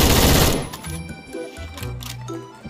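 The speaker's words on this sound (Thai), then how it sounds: "เดี๋ยวผมจะลองยิง" Very rapid automatic gunfire from a high-fire-rate gun with Master Boost in the Roblox game Phantom Forces: a dense, loud burst in the first half-second, then fading echoes and scattered mechanical clicks.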